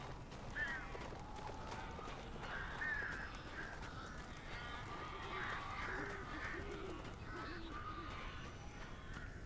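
Crows caw in the video game Alan Wake Remastered, a handful of scattered, fairly faint calls over a dense, rumbling ambient background with no talk.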